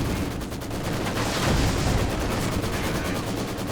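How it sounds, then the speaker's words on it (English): Rocket barrage in Company of Heroes 2 during a 2v2 match: dense, continuous rumbling explosions and blasts blending into a steady wall of noise throughout, with a commentator's voice faintly mixed underneath. "There's the first resist barrage."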